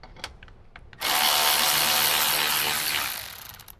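A ratchet backs out a 10 mm bolt on a Toyota 4Runner during a headlight install: a few faint clicks, then a loud continuous whirring burst for about two seconds that fades out.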